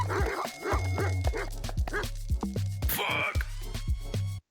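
Dogs in a video game chase a running character, giving repeated close barks and yips in quick bursts over a steady low game music bed.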